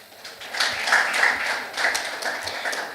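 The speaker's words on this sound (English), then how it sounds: "Can we give another round of applause?" A conference audience claps in a scattered round of applause, moderately close, swelling and easing over a few seconds without any voices.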